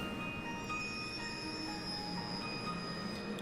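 A train rumbling along a railroad in the video game The Legend of Heroes: Trails of Cold Steel 2, a steady continuous roll with faint high squealing tones and no talking.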